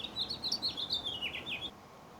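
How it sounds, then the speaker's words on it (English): Finches chirp and tweet near a backyard bird feeder in New Mexico, a quick run of bright, high calls over about a second and a half, fairly close and clear against quiet outdoor background. "There's the finches again."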